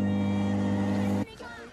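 An i-Cook'in food processor mixes cookie dough at speed 3, its motor a steady close whirring hum that cuts off abruptly near the end, leaving a softer rumble.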